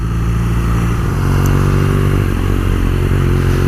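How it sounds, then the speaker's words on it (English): A 2018 BMW R nineT Pure motorcycle engine pulls away, its loud, close, throbbing rumble rising steadily throughout. "It does sound good, this engine, as you pull away."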